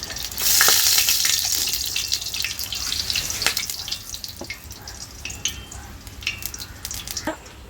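Ghee sizzling and frying in a pan for jackfruit halwa, a steady bright hiss with scattered pops and crackles that slowly calms, with occasional stirring clinks.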